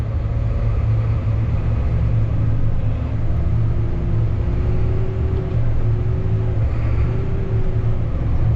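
A vehicle pulls out onto a busy highway with a steady engine rumble up close and continuous traffic noise around it, and no voices.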